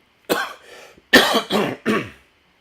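Four sharp, rough coughs in quick succession, close up, with brief silences between them and no talking.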